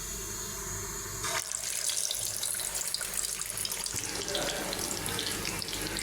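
Beef kebabs drop into hot soybean oil over a medium flame, and a loud, dense hiss of frying starts abruptly, then holds steady and close.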